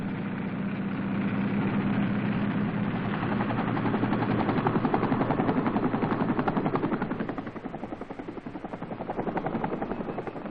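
A helicopter's steady rotor thump and engine whine, loud and continuous, rising slightly then easing as it holds nearby, evacuating casualties in Vietnam.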